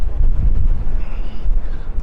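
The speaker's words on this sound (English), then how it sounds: "It's extremely windy here because we're open." Strong gusting wind buffeting the microphone on O'Connell Bridge in Dublin, loud low rumbling blasts that surge and ease without pause.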